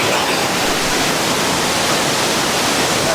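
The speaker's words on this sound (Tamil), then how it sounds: "எவ்வளோ தண்ணி எவ்வளோ ஃபோர்ஸாக போகுது பாருங்கள்." A river rushing with force, a loud, unbroken broadband roar of water that stays constant throughout, with no voices.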